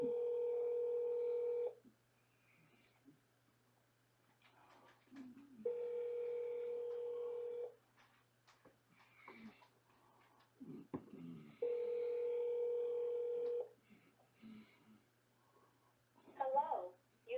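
While a phone call is being transferred, a telephone line plays a steady dial tone in three long bursts with pauses between them. Faint talking and small clicks fill the gaps.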